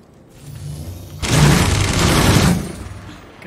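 A big gun fires in the video game Realm Royale, a loud sustained burst of rapid gunfire lasting over a second after a quieter lead-in, then tailing off.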